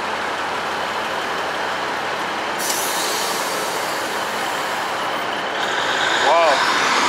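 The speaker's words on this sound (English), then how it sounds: "So I guess this train is leaving now." A passenger train leaving a station on a Manchester to London trip, heard as a broad steady rumble and hiss of rolling stock that swells near the end with a brief whistle-like squeal, with a voice speaking throughout.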